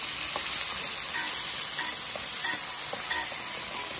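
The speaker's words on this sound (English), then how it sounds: "So we're gonna saute these for a few minutes" Vegetables for Jamaican saltfish and cabbage sauté in a pan, making a loud, steady hiss with faint scattered ticks of stirring.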